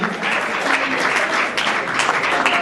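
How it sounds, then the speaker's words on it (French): An audience at an awards ceremony in a hotel applauds an artist, a steady wash of clapping that holds for a couple of seconds at moderate loudness. "Merci de bien applaudir pour l'artiste"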